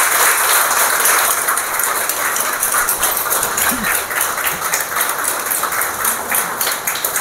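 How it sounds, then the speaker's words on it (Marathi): A hall audience applauds a speaker, a dense continuous wash of clapping heard from within the crowd, steady and loud for the whole stretch without pause. "आपण सरांसाठी टाळ्यांचा इतका घुमघुमाट करू ना की हा हॉलमध्ये आवाज आला पाहिजे"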